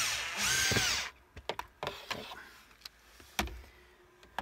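A power tool whirs briefly up close while driving a screw into a boat's bulkhead in a grey water bilge, followed by sharp knocks, clicks and handling sounds in a small space.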